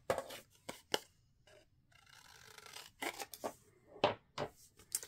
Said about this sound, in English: grab some scissors, and we're going to miter these corners like so